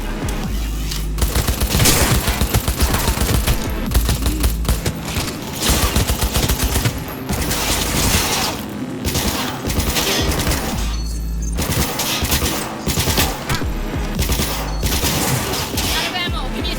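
Sustained automatic gunfire from a Cyberpunk 2077 firefight, loud rapid bursts that continue almost unbroken and pause only briefly, with a voice heard over the shooting.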